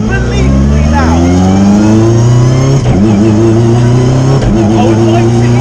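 A 500 BHP Ford Escort Cosworth Group A rally car engine revs hard and loud, rising in pitch, then dipping and climbing again as gears change, heard close from inside the car with no talking.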